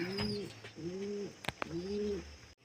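Pigeon cooing from a home loft where young birds are handled, three clear rising-and-falling coos in steady rhythm, close and fairly loud, with two brief sharp knocks between the second and third calls.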